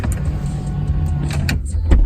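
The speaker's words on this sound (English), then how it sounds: "Open the door." An Audi door, either an RS5 or an S5, opens just after the engine shuts off, giving a close mechanical clunk and a short whir, then a sharper thud near the end, with no talking.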